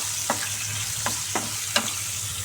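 Sliced onions fry in a pan for an egg and tomato masala curry, with a steady low sizzle and four sharp stirring scrapes spaced about half a second apart, close and clear with no talking.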